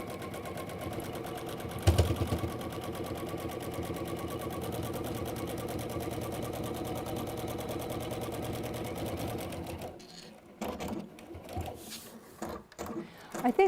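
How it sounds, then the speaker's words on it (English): A sewing machine runs steadily in a fast, close, rapid whir while re-sewing a short stretch of seam. It stops after about ten seconds, leaving quieter handling noises. "I'm just going to go back in and just re-sew that little bit down there"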